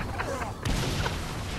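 Gunfire in the video game Saints Row IV during a hardcore co-op session, a sharp burst of shots striking midway through and followed by dense, busy game noise under a voice.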